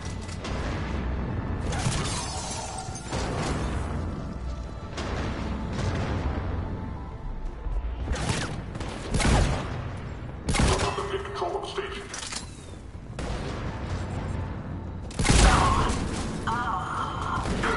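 Gunfire in the video game Mass Effect 3 during a firefight outside a defense station: dense, repeated bursts and sharp loud shots over a constant rumble of battle, with occasional heavy booms and voices calling out.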